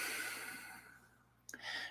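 A long, soft exhale during spinal breathing meditation, a steady airy breath fading over more than a second, then a short sharper intake near the end, close and quiet.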